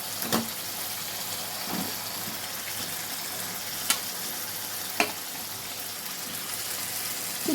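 Vegetables for khichuri sizzle steadily in a hot pan while being stirred, a constant frying hiss with a few sharp clinks of the spoon against the pan, no talking.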